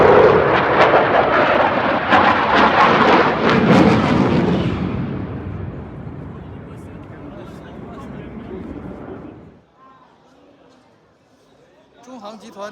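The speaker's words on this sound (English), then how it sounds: "Yes, it's a Eurofighter." Eurofighter jet at the Paris Air Show: a loud, rumbling jet roar that swells, then fades into a distant tail over several seconds, followed by near quiet with faint voices.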